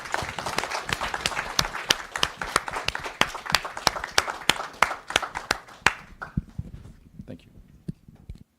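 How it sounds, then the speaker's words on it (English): An audience at a Capitol Hill film premiere and panel discussion applauds the panelists with crisp, individual claps from a smaller crowd, thinning out after about six seconds into a few scattered claps and quiet murmuring. "Let's give them a big round of applause."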